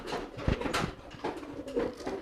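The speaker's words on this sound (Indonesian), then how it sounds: "Nah, ini merpati kipasnya nih" A fantail pigeon coos close by in a soft run of throaty, repeated notes, heard alone without any talking.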